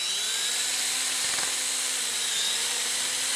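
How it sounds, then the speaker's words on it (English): A power drill bores out the inside of a broken golf shaft, giving a continuous high-pitched whine that stays level and close for a few seconds. "We're going to drill out the inside of it."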